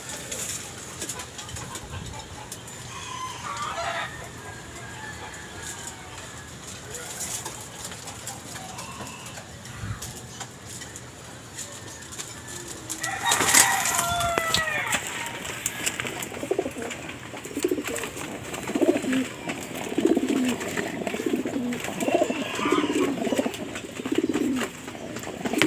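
Pigeons coo repeatedly in soft, low, rhythmic calls at close to moderate distance, with scattered rustling and clinks around them, the cooing growing busier and louder in the second half.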